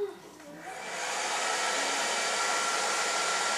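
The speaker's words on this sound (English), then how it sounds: "So we're going to just hold a blow dryer to it." A handheld blow dryer switches on and runs as a loud, steady whooshing roar, held close to heat a direct-ethanol fuel cell.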